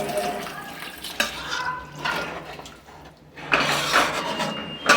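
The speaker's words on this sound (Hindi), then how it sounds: "तो जी ये बुनाई हो गई है सब्ज़ी की, तो अब मम्मी करेंगी ऐड पानी इसमें।" Water gushes into a pot of cut vegetables in a home kitchen, arriving in a few splashy bursts with short pauses between them, fairly close and loud.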